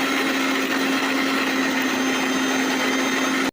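A kitchen mixer grinder blends green chillies, garlic and salt for cabbage chutney, a loud steady motor whine with a strong constant hum that runs without a break and cuts off abruptly at the end.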